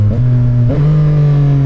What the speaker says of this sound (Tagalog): Ganda tumunog ng 3-cylinder.